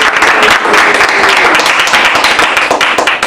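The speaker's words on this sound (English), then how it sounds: "You can clap now." Audience applause at a Toastmasters club meeting, a dense, steady wash of many hands clapping that holds loud and continuous for the whole stretch, with no voices standing out.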